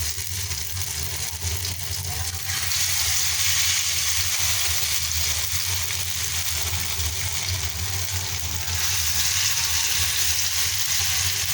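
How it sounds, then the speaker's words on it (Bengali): Continuous loud sizzle of lentil and Malabar spinach fritters frying in hot oil in a pan, a dense steady hiss that swells as more batter goes in, with no talk. "তেল গরম হয়ে গেছে, এবার বড়াগুলো দিয়ে দেব।"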